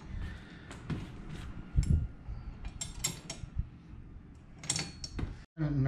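A ratchet works on the seat bracket bolts of a C5 Corvette while Corbeau A4 seats are fitted, giving quiet clicks and metallic clatter in irregular bursts, close but faint, with some low background noise.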